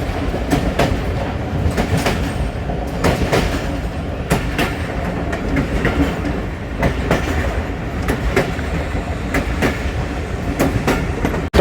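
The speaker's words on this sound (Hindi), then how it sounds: "12 डाउन हज़ारा एक्सप्रेस 8305 के साथ 2 बजे निकली है हवेलिया से।" Hazara Express train departing Haveliyan station in Pakistan, heard close with continuous rumbling and rhythmic clickety-clack of wheels over rail joints, steady and loud throughout with no talking.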